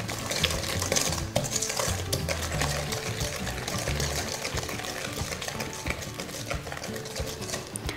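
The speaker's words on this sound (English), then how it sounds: "And I'll just whisk this together lightly." Eggs being whisked into cupcake batter in a bowl, a steady rhythmic beating with light clinks of the whisk against the sides, close and continuous throughout.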